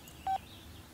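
A phone alert in a video game gives a single short electronic beep. It is brief and clear over a faint, low background hum.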